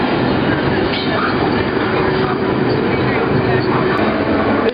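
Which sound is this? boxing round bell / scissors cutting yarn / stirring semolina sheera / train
train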